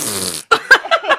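A long buzzing fart sounds close and loud, followed by a string of shorter sputtering bursts in quick succession.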